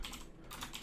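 Quick keystrokes on a computer keyboard while using video editing software, a short, close burst of clicks with no talking.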